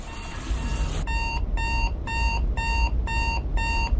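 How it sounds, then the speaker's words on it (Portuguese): An alarm clock rings in six evenly spaced bursts of bright electronic beeping, close and clear, following a second of quieter tonal sound. "Você acorda quando o despertador toca"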